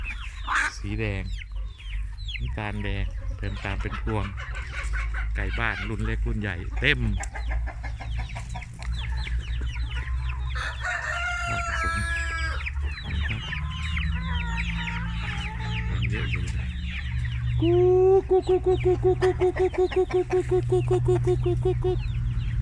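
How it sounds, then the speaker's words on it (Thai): A crowded poultry farm full of egg-laying hens and breeding stock fills the air with constant clucking and cackling, close and lively, while someone talks over it and a repeated squawking call rises near the end. "นี่ ไก่เยอะนะครับช่วงนี้ ออกไข่ดี"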